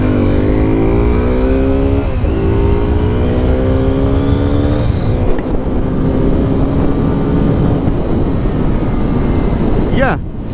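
A Suzuki Gixxer 250 motorcycle accelerates through its gears as it is ridden, the loud engine note rising in repeated sweeps with wind rush throughout.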